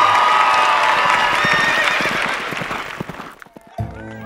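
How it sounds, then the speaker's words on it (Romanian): Audience applause and cheering after girls' folk chants on a Romanian countryside reality show, a dense, loud wash of clapping that fades out near the end and gives way to quieter noises. "Aplauze pentru strigăturile fetelor noastre."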